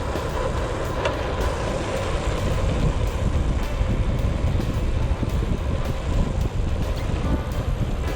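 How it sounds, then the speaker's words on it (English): Strong wind buffets a cyclist riding a Lapierre Ecrosshill gravel bike on an open hillside near Llanwonno in South Wales, a steady loud roar and rumble of gusts across the microphone throughout. "but it's very windy around me."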